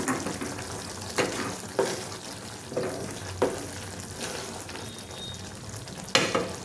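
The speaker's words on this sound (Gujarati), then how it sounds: "કસૂરી મેથી ઉમેરી દઈશું. હલાવી દઈશું." Kasuri methi is stirred into a mix veg paneer curry in a pan, with a soft continuous sizzle broken by several distinct scraping stirs of the spoon at irregular intervals.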